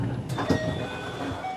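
A train at a station in Japan on a summer evening makes a steady rumbling hum with a brief clatter and a faint high squeal, close and continuous throughout.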